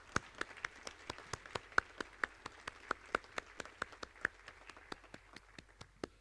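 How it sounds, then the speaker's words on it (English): A round of applause at a school recognition-of-excellence event comes through as faint, evenly spaced claps in a steady beat, sharp and distinct rather than a dense roar. "let's give them a round of applause"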